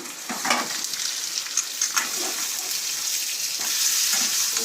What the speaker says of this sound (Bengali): এখন আমি এটা ভেজে নিই।